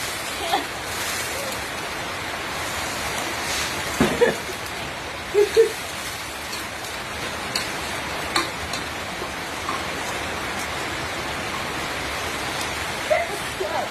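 Steady rain hisses evenly throughout, with a few faint knocks and drips scattered over the constant wash.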